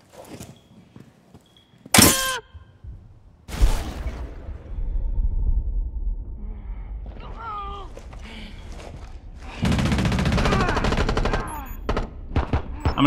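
Gunfire in the video game Rainbow Six Siege, a pistol fight during a bomb match on the Chalet map: two loud, sharp shots stand out, followed by a busier stretch of game noise with scattered clanks and more shots.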